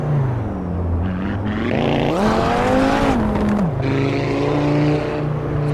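An Audi RS3 driving in the racing game Assetto Corsa Evo, its engine note droning steadily, then rising in pitch as it revs up mid-clip and dropping back again, loud and continuous with no talk.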